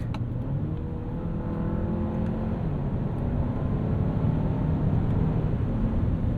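Steady engine drone and road rumble inside a 2024 Hyundai Santa Fe as its 8-speed automatic is shifted manually with paddle shifters, a continuous low cabin hum with slight shifts in engine pitch.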